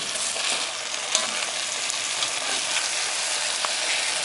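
Chopped onion and garlic sizzling steadily in a hot pan with oil, with occasional scraping clicks as the mixture is stirred.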